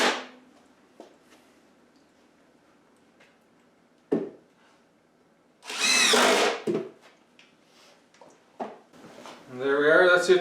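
A power drill drives screws into wood while building a rabbit house. Two loud whirring bursts stand out against a quiet workshop, with scattered taps and clicks between them.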